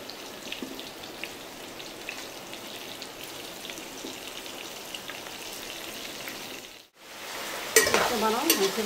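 Mushrooms frying in oil in a pan, stirred continuously with a steady crackling sizzle and scraping, close and fairly loud, with a brief pause before the sizzling returns brighter.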